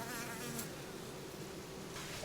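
Honeybees and drones swarm in a dense, steady buzz at an opened hive during a beekeeping colony merge, the drone continuous and close throughout without any voices.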